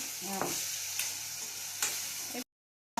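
Sago pearls roasting in a pan on the stove give off a soft, steady sizzle, with a few scraping clicks of stirring scattered through before the sound cuts off abruptly near the end; no one speaks.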